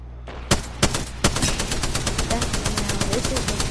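Rapid gunfire in a shooter video game: a few sharp shots followed by sustained automatic bursts, loud and close, with a voice talking over it.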